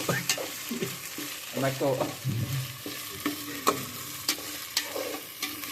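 A spatula stirs egg bhurji frying in a pan, giving close scraping and clinking over a soft sizzle, with a brief word spoken in the background.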